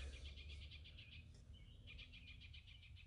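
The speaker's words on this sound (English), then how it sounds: "that's the oriole, I do believe, squawking up there" An oriole repeatedly calls in short, harsh bursts high overhead, a rhythmic squawking series with a brief pause midway, over a low outdoor rumble at an arboretum.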